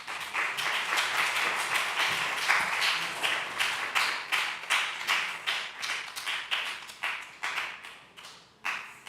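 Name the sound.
congregation applause welcoming announcers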